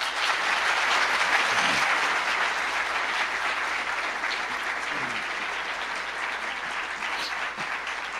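An audience applauds steadily to welcome Slavoj Žižek to a lecture, dense sustained clapping filling the hall at an even level throughout.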